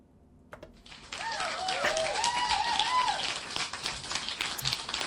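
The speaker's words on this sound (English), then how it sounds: "I had to play I have an applause sound effect" Applause played as a sound effect bursts in after a brief pause, a dense crowd clapping that stays loud and steady to the end, alongside a faint whistle-like tone.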